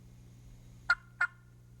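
A wild turkey gives two short, crisp clucks spaced about a third of a second apart, fairly close and clear over a low, quiet background hum.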